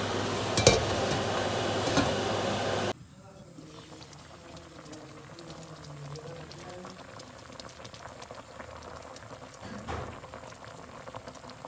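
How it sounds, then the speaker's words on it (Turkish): Kemal Paşa dessert boils in a pot on the stove, popping and bubbling loudly for a few seconds before settling into a softer, continuous simmer with scattered pops. "Biraz daha kaynasın."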